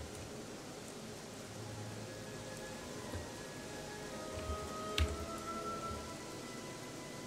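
Rain ambience from the video game Gothic 3 hisses steadily as soft, even white-noise rainfall, with faint tonal game sounds and a brief click, no speech.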